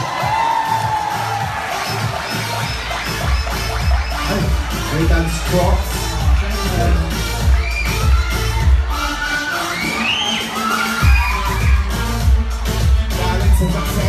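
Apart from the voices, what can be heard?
audience applauding and shouting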